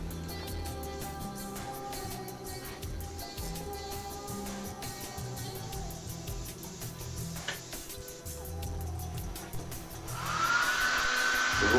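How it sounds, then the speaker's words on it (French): A hair dryer blows to dry airbrush paint, a steady whirring airflow hum running throughout at moderate level, rising louder with a brighter rushing tone near the end. "vous pouvez accentuer le séchage avec un sèche-cheveux classique"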